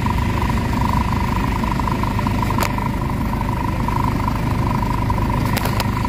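A Mitsubishi Adventure engine, down on power and sluggish to pull away, idles steadily with a constant low rumble and hum at close range, broken by a couple of brief clicks.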